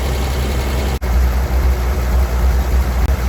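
A Willys truck engine, fitted with a 226 motor and freshly serviced on its fuel system, runs steadily at a low, rumbling idle close by with one brief dropout, no voices.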